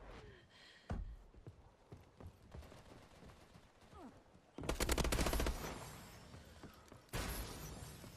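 Rapid gunfire rattles through an AW capture-the-flag multiplayer match, with scattered shots giving way to sharp bursts of automatic fire that cut in loudly twice. Faint voices sit underneath.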